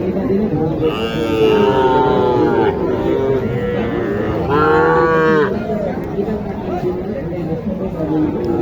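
Cattle lowing at a crowded Naogaon district cattle market, with two long drawn-out moos rising clearly above a steady babble of people talking throughout.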